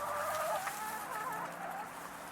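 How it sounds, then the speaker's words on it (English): Chickens in a straw-floored coop cluck and murmur continuously, several birds close by with overlapping calls and a few sharper squawks. "Every chicken in this coop is named Lizzie, after Lizzie Borden."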